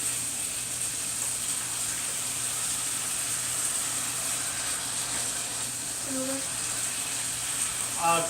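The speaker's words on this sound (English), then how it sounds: "let this saute all the way down till the juice disappears and the tomatoes start to break into the hot sauce here" Tomatoes and their juice sautéing down in a pan of Texas hot chili sauce, a steady soft sizzle and hiss throughout, with speech present in the background.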